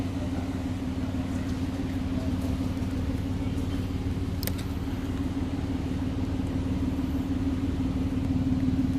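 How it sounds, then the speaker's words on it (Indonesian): A 1991 Toyota Crown Super Salon with a 2.0 injection engine idles smoothly and steadily, a low, even rumble holding close and constant throughout with a brief faint click midway. "ini mesin dalam kondisi hidup ya. Mesinnya halus banget."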